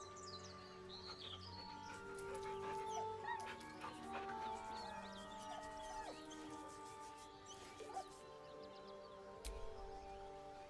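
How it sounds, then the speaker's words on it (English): A dog in the video game Baldur's Gate 3 whimpers nervously, with high thin whines and yips over a quiet bed of birdsong and soft musical tones. "With a deep, heartbroken whine, the dog bows his head. The dog whimpers nervously,"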